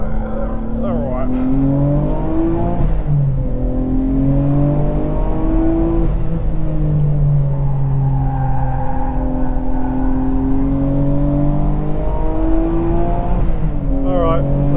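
A Nissan Skyline GT-R on The Bend GT circuit with its engine droning loud and steady, pitch rising and falling through corners and shifts, and a voice talking over the engine noise.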